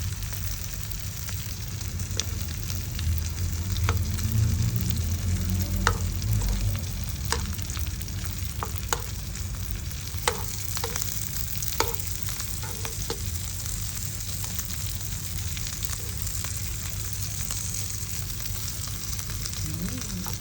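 Dried fish deep-frying in oil until crunchy, ala lechon style: a continuous close sizzle and crackle with scattered sharp pops and occasional stirring clatter running throughout, with no voices.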